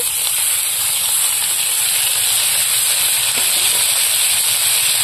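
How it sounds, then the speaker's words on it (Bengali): Dried shrimp frying in oil with cooked onions gives off a loud, steady, dense sizzle and hiss that stays close and constant throughout, with no voices. "পেঁয়াজটা হয়ে গেছে, এবার শুটকি চিংড়িগুলো দেবো।"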